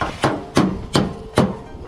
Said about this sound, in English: Now he's got the body hammers out.